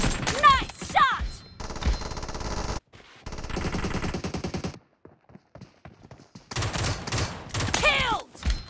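Gunfire in the PUBG Mobile gun game mode: bursts of rapid automatic shots in several volleys separated by brief silences, loud and close, with a few game sound effects.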